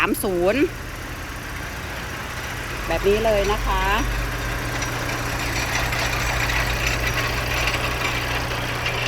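A 2018 Isuzu NMR 130 six-wheel diesel truck engine idles steadily with a low, constant rumble throughout, while someone speaks briefly over it near the start.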